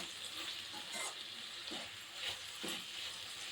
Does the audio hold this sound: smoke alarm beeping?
no